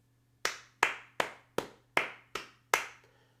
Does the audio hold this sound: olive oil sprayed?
no